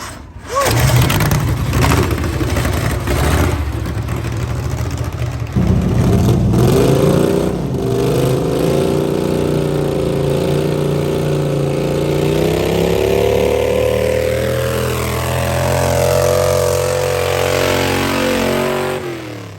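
Tractor engines roaring at a tractor pull, with worn clutches straining against the sled: a loud, continuous, close-up engine drone that climbs steadily in pitch as the revs rise, holding high and harsh to the end with no talking.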